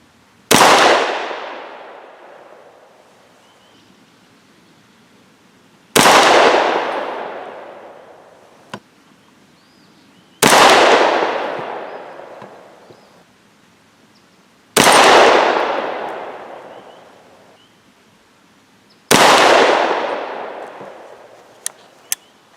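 Five single shots from a 300 Blackout rifle firing Hornady A-Max 208-grain subsonic loads with Reloader 7 powder, each a sharp loud crack with a decaying tail, spaced several seconds apart with small metallic clicks between.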